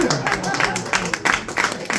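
An audience claps at a live science talk on the microbiome: a few loose, uneven hand-claps ring out in quick succession, spread across a brief moment, with speech mixed in.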